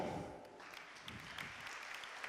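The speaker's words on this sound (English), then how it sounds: "Please give her a very, very warm welcome with your hands, with applause for Elena Poughia" Faint audience applause at a data-driven marketing conference welcoming a speaker to the stage, an even wash of clapping throughout, soft and distant.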